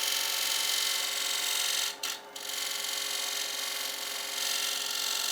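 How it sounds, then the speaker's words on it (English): A negative rake scraper shaves gouge marks from a wooden bowl spinning on a lathe, a continuous loud hissing rasp with a brief dip partway through, close and steady. "Just using a negative rake to clean up some of the bowl gouge marks."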